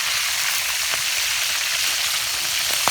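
Marinated quail fries in hot oil in a backyard cooking setup, a steady, close, bright sizzle with a few sharp pops and crackles over the continuous hiss.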